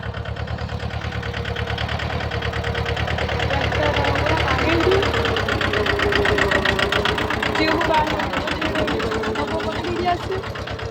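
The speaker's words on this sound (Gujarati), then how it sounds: "આજે ફાઇનલી અમારા ખેતરમાં નાનું ટ્રેક્ટર હાંકવા આવી ગયું છે" A small tractor engine runs steadily on a farm field, its loud, even mechanical chugging continuing throughout with a rapid regular pulse and no pauses.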